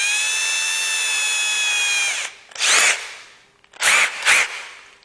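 An electric drill spinning a whisk whines steadily at high speed for about two seconds, then stops; afterward come a few short bursts of scraping or rattling.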